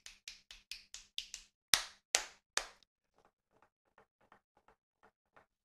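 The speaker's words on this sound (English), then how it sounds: "picked up the claps" Sharp hand claps are captured by the HyperX Cloud 3 Wireless headset microphone. A quick run of about eight close claps is followed by three louder ones, then a faint string of softer claps.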